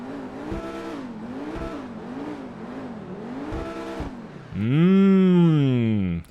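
Pegassi Ignus supercar engine in GTA 5 Online revs in repeated rising and falling bursts, then swells into a louder, longer high rev near the end, close and without talk.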